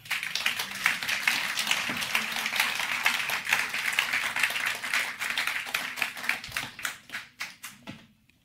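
A church congregation claps together in praise of the Lord, steady dense applause holding for several seconds before thinning into scattered claps and fading out.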